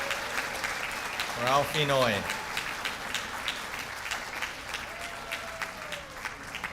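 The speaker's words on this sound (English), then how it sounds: "how about a nice round of applause for our guest of honor" Indoor audience applause at a 100th birthday celebration, steady clapping across the whole stretch with someone speaking briefly over it partway through.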